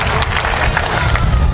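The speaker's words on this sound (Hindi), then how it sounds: "एक बार तालियां उठाइए।" Audience applause and cheering at a Hindi comic poetry gathering (hasya kavi sammelan), a dense, steady wash of clapping from a crowd that fills the whole short stretch at a loud, even level.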